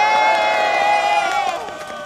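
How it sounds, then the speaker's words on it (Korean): A crowd at a political rally in Korea cheers and shouts loudly and continuously, with sustained voices and whoops over dense noise, easing slightly toward the end. "우리 남 교수님한테 큰 박수 부탁드리겠습니다"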